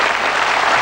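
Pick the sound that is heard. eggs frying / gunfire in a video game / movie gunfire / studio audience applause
studio audience applause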